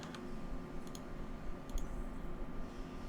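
A computer mouse clicking during retopology work in Blender's Retopoflow add-on, a few quiet, sharp clicks spaced apart over a steady low room hum, with no voices.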